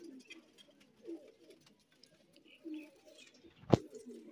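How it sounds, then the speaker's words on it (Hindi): Golden pigeons kept for sale coo softly in a low, rolling murmur close by, with a brief sharp knock near the end and no talking. "गोल्डन कबूतर है"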